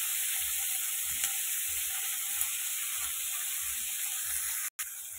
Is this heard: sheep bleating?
no